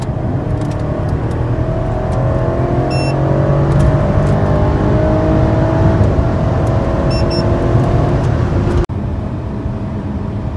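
BMW X6 M tuned by Hamann accelerating hard from 100 to 150 km/h, the engine note climbing steadily through the gears with a loud, continuous roar and rising whine inside the cabin, ending with a sudden drop.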